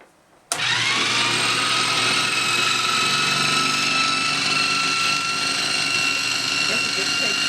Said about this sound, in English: The thing where they polish the pucks, I guess they're pucks.